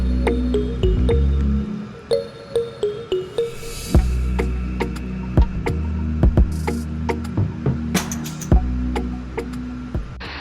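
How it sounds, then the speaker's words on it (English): Okra goes into a simmering fish stew in a pot, a series of soft wet plops and squishes with scattered clinks, close and moderately loud over a steady background hum. "Now we are going to add in the okra."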